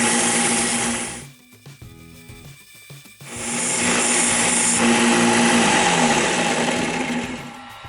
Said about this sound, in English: Now this ugly looking end here can be finished up on the belt sander.